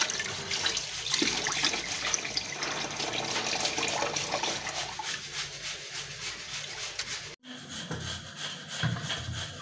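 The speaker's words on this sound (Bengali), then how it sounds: "এই যে বন্ধুরা, খুদগুলো সুন্দর করে ধুয়ে পরিষ্কার করে নেব।" Broken rice is washed under a running tap, a steady, fairly close rush of water that continues for almost ten seconds with a brief break near the end, with no voices.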